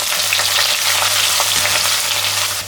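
Garlic and green chilli fry in hot oil for a fish head curry, a loud, dense, steady sizzle and crackle close by that runs without a break and has no talk over it.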